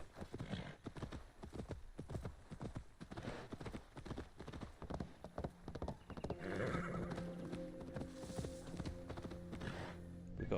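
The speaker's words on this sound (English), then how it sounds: "Where's my horse, man?" A horse in the Assassin's Creed Wrath of the Druids game clip-clops along in a steady hoof rhythm, then lets out a clear whinnying neigh near the end, close and prominent.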